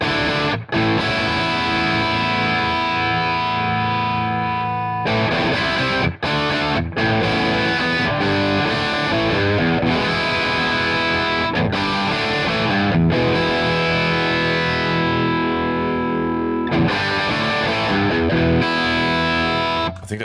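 Electric guitar through a Mesa Boogie amp simulation plays a dense, distorted, sustained passage, loud and continuous for about twenty seconds, with a few brief gaps between phrases.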